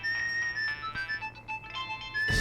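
A phone ringtone plays a steady electronic melody, close and clear, with no one speaking.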